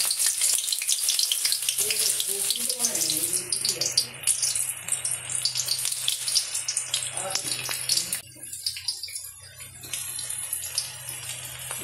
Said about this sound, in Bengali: এবার পেঁয়াজ আর রসুনটা আমি ভালো করে ভেজে নেবো।